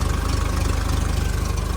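Forklift engine running rough and shaking, a steady close idle with a regular knocking pulse throughout and no talk over it.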